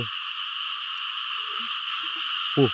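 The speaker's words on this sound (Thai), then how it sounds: "ว้าว กบตัวนี้ กบหรือเขียดนะ" A frog gives a few brief croaks, the last one close and distinct, over a loud continuous chorus of insects or frogs at night.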